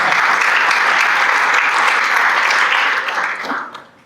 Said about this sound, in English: I am going to ask for a round of applause for all your fellow Rotarians who did that so beautifully